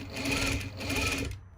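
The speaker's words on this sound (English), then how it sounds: "And again, adjusting the edges as you sew along." A sewing machine stitches along the edge of a two-piece collar, a rapid steady mechanical whirr in two close bursts with a brief slowdown between them, then stopping.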